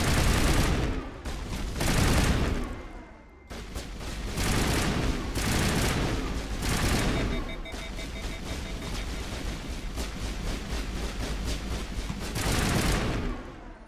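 Mass Effect combat gunfire rattles in sustained loud bursts of rapid shots, with brief pauses between volleys and a dense, explosive battle wash underneath.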